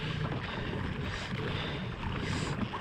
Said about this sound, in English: I'm gonna start paddling and I'm gonna cut it left